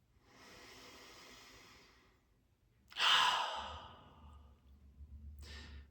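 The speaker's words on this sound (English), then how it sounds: "Let's breathe that in." In guided meditation, one faint breath is followed by a deep, loud inhale that tapers off, then a brief further breath at the end, close to the listener.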